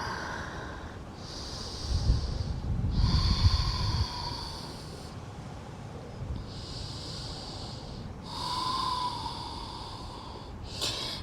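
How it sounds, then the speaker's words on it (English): Slow, deep breaths held in a yoga pose, close and quiet, with long hissing inhales and exhales alternating in an even rhythm over several cycles. "Few breaths here."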